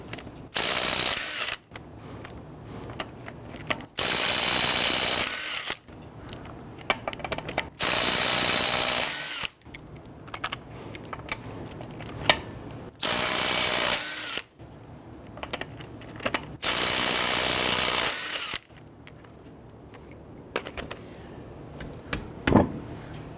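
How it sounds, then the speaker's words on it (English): A power impact tool with a 21mm socket loosens lug nuts on a 2011-2017 Nissan Quest front wheel. It fires in several loud, sustained bursts separated by quieter gaps with small clinks and ratcheting. The sound is close-up and there is no talking. "Using a 21mm socket, loosen and remove your lug nuts."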